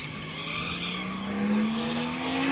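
A Nissan Laurel with an RB20 engine drifts at a drift festival, tires squealing continuously in a steady rising whine over a roaring engine, loud and sustained.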